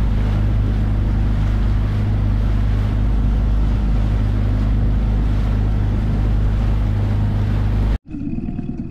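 A fishing boat cruises on the open sea while trolling for yellowtail snapper and tuna, a constant heavy roar of engine and rushing wind that runs unbroken before stopping abruptly near the end.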